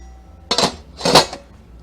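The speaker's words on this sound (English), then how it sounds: "So now we're gonna add our potatoes, right?" Red potatoes tumble into a large seafood boil pot in two quick, close, clattering bursts, separated by a short pause, with no talk.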